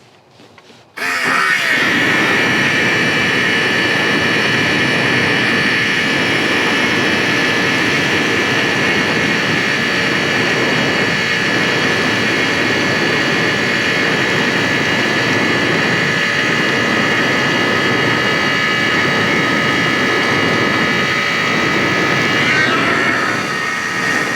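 A diesel-fed Exothermic Pulse Fire flamethrower roars into a continuous, loud jet-like blast with a steady high whine, starting abruptly after a quiet second and running unbroken to the end.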